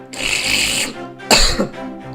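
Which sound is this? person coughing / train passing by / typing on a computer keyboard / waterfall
person coughing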